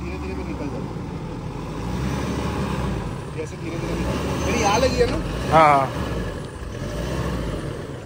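A Toyota Fortuner SUV grinds slowly over rough off-road ground, its deep engine rumbling low and steady like a truck, with a brief whine as it climbs, while people talk over it nearby.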